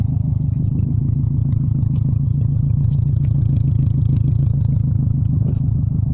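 A 1999 Subaru Impreza with a loud Cannon aftermarket exhaust idles close by, a deep, heavy, rhythmically pulsing burble that is steady and loud throughout with no talking.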